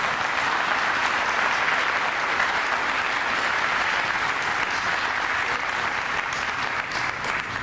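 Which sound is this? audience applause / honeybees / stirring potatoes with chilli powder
audience applause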